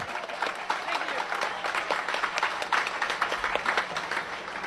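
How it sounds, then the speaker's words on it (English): An audience at a 2003 bluegrass concert claps in a warm, moderate round of applause, steady with individual claps standing out, continuing alone for several seconds. "Another round of applause"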